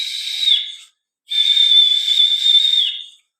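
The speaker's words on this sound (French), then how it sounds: "Essayez de siffler, essayez de siffler, vous sifflez une note aiguë" A person whistles a pure, high note during a singing lesson on reaching the top of the vocal range: a short whistle first, then after a brief pause a longer, steady one, close and clear with no other sound.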